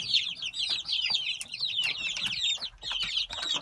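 High, thin peeping from newly hatched bantam chicks, a steady busy chorus of chirps close by with faint rustling underneath.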